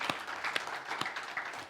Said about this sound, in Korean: 다시 한번 하나님께 영광의 박수를 올리겠습니다